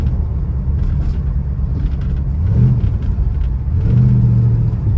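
A 1973 Mercury Montego MX classic car on the road, its engine holding a steady low rumble that swells twice as it accelerates, heard from inside the cabin.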